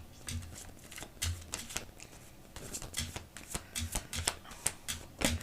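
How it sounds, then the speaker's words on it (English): Tarot cards are shuffled close by, in soft, papery riffles and flicks that come in quick bursts with short pauses between them, with no voice over them. "Let me get some tarot messages."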